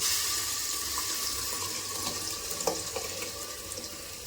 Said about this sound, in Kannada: ನಮ್ಗೆ ಎಷ್ಟು ಬೇಕೋ ಅಷ್ಟು ನೀರು ನೋಡಿಕೊಂಡು ಹಾಕ್ಕೊಳ್ಳಿ